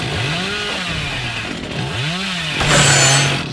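A chainsaw in the horror game Dead by Daylight revs loudly and alone, its pitch swooping up and down in repeated surges before settling into a higher sustained whine near the end.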